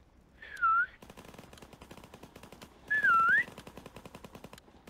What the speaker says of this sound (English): Last whistle, come on.